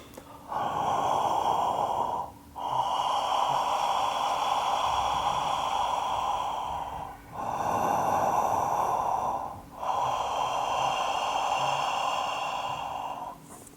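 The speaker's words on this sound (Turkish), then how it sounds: "Şimdi nefes alırken de ağzım açık Boğazım aktif ve sesli bir şekilde alacağım." Ujjayi breathing drawn loudly through an open mouth with the throat engaged, heard as several long, close, rasping breaths of steady airy hiss, each separated by a brief pause, with no talking.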